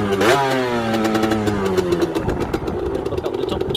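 A 50cc moped engine, partly repaired, revs up sharply, its pitch climbing then dropping into a rough, uneven idle with sputtering pulses; loud and close, no talking.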